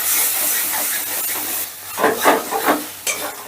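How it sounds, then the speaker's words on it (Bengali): Spice paste for an okra and poppy-seed curry fries in hot oil with a loud, steady sizzle. Louder hissing bursts and scraping come in the second half as the paste is stirred. "এবারে সমস্ত মশলাটা বেশ ভালো করে কষে নেব, যতক্ষণ না মশলাটা থেকে তেল ছেড়ে দিচ্ছে।"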